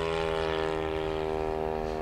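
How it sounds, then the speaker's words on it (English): Seagull Models 103-inch Morane Saulnier AI radio-controlled scale plane at half throttle, its engine holding a loud, steady droning hum with no other sounds. "Engine is singing along quite nicely."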